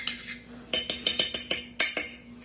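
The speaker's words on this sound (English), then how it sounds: "I'm going to mix that together" A spoon clinks and scrapes against a bowl as sautéed onions, butter and sour cream are mixed for an onion casserole, a rapid series of close, bright metallic taps with no talking.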